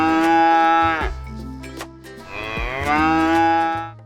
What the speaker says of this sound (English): Wow, it's a cow. Cow, moo, moo.